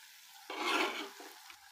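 Onions and spices are stirred into meat frying for Kenyan kebabs, producing a brief quiet scrape and sizzle burst of about a second before it fades back to a low hiss.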